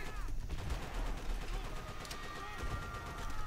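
Gunfire in the video game Call of Duty: World at War, with bursts of shots and explosive thuds over ongoing game noise, fairly close and continuous.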